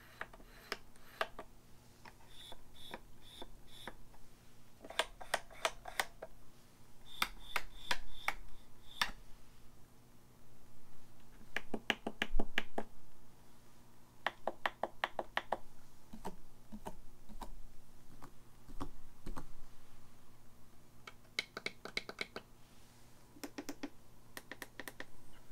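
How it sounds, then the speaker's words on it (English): Rapid bursts of small plastic button clicks from a Traktor Kontrol DJ controller, clustered in quick flurries with brief gaps, close and fairly quiet with a low hum beneath. "you can definitely hear a difference in the two because majority of the buttons on here are plastic"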